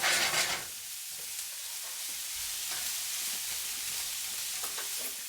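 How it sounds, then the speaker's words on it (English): Onions, garlic and vegetables sauté in a pan with a steady sizzle and occasional scraping stirs; a louder burst opens the moment, then the frying settles to an even hiss close by, with no voices. "Then add the rest of your vegetables and saute them for a minute more."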